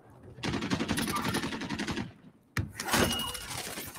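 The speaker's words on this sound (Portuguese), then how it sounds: "Estão atirando em mim!" Gunfire in the battle royale game Call of Duty Warzone: a rapid automatic burst, a short gap, then a sharp shot followed by more fire, fairly quiet and under faint game voices.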